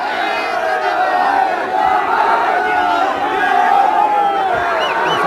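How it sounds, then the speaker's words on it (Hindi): A crowd at an election celebration in Churu chants Zindabad slogans, a massed roar of many voices with rising shouted swells, loud and continuous throughout. "और साथ ही रफीक मंडेलिया जिंदाबाद के नारे लग रहे हैं।"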